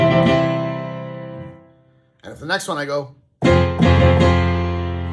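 Sustained piano-like chords ring out one after another, comparing major and minor, with someone speaking briefly between them before the next chord sounds loud and close.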